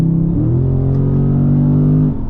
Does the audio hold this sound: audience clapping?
no